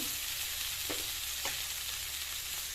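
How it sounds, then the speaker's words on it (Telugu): Soaked flattened rice (poha) goes into a hot pan for protein poha with chickpeas, and a steady faint sizzle is heard along with a few soft stirring scrapes. "ఇలా నానబెట్టిన అటుకుల్ని ఇలా వేసుకోండి"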